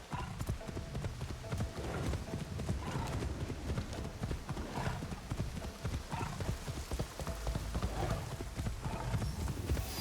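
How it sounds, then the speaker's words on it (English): A horse, ridden as a mount in Assassin's Creed Shadows, gallops with a steady, rapid clip-clop of hooves throughout, close and clear over a soft ambient bed, with a brief whinny. "I guess technically it's called a mount, not a horse."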